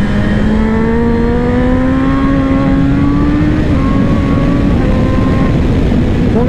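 A BMW M 1000 XR Competition 2024 motorcycle accelerates hard, its loud, steady engine whine climbing smoothly in pitch and shifting once partway through, heard up close with continuous wind roar and no talk.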